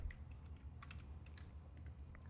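Quick, close computer keyboard keystrokes while code is entered in the VBA editor, a brief burst of light clicks with no voices.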